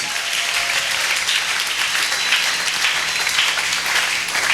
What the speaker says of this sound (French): acclamons très fort pour ce Seigneur. Acclamez très fort.